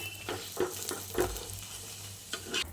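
Food frying in a pan, a soft background sizzle with several distinct stirring scrapes and light clinks of a utensil against the pan, fairly quiet and close, no speech.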